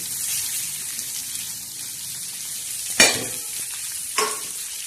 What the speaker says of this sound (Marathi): आता हे कांदे टमाटे असे छान असे परतून घेणार आहोत असे चांगले हलवून घ्यायचे